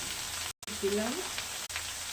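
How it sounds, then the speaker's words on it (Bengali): Eggplant and grass pea greens frying in mustard oil, a steady close sizzle and crackle running through a short stretch, broken by a brief dropout, with a faint voice in the background. "তেলে করলাম শাক ভাজা। সর্ষের তেলে ভালো লাগে।"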